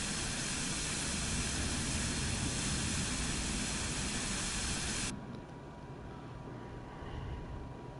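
Aircraft engine of a plane taxiing in Microsoft Flight Simulator 2024 on PS5, a steady broadband roar and hiss that drops sharply in level about two-thirds through, then continues more quietly.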